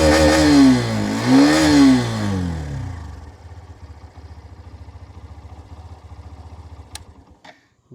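Hero Xtreme 125R motorcycle engine heard up close, first revved in two rising and falling sweeps, then settling into a steady, low, rhythmic idle thrum, with a couple of sharp clicks near the end.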